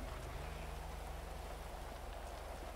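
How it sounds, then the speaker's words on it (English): Rain in the video game GTA V with the LSPDFR police mod, a steady, soft hiss of falling rain with a faint low hum underneath and no talking. "It's raining out."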